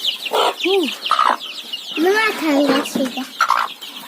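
Local free-range chickens, including a mother hen with chicks, cluck close by in short repeated bursts, with a person speaking briefly among the calls.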